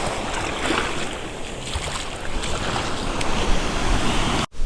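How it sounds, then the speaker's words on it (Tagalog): Ocean waves at a Dinadiawan beach in Baler with some rocks, a loud steady wash of surf with wind rushing over the microphone, cutting off abruptly at the end. "Buti hindi ganun kalakas yung alon kasi wala namang bagyo."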